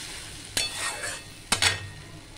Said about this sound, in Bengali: এইটা এবার ভালো করে কষিয়ে নেব, যতক্ষণ না তেল ছাড়বে ততক্ষণ আমি এটাকে কষিয়ে নেব